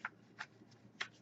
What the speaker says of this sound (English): I'm gonna shuffle here.